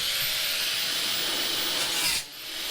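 A power tool grinds rust from a Chevy Astro van body down to bare metal, a steady, loud, high-pitched abrasive whine that holds almost unbroken before briefly dipping near the end.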